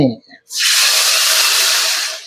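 After a brief voice, a sudden loud hiss erupts as water hits a hot pan of stir-fried vegetables, holding steady for about two seconds.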